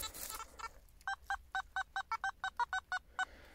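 A metal detector sounds a string of about a dozen short, bright beeps in quick, even rhythm, clear and close, after a brief noisy rustle.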